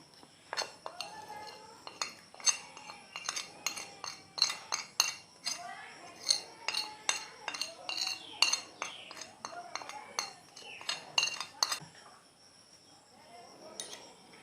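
Spoonfuls of ingredients going into a pickle mix, with a metal spoon clinking repeatedly against a dish in quick irregular taps, close and clear, stopping near the end.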